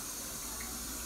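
Liquid poured in a steady, unbroken stream, a quiet continuous gush with no voices.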